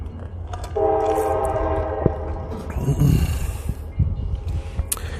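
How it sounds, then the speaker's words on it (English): Railroad crossing bells ringing up the road from an outdoor spot, carried with train noise: a steady tonal clang and horn-like drone over rumble, fairly distant, alone without talk. "there's a railroad crossing up the road there"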